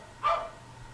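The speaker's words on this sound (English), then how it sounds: "Stupid dog." One short, sharp dog bark rings out alone, moderately close, against a steady low background hum.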